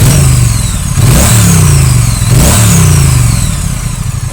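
A loud Triumph Bonneville T100 motorcycle engine idles close by and is revved twice in sharp bursts, the pitch rising and falling back each time.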